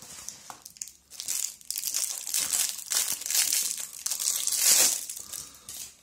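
Plastic packaging around a ballpoint pen is crinkled and pulled open up close, a loud continuous crackling and rustling with sharper crunches as the wrapper tears, without any voices.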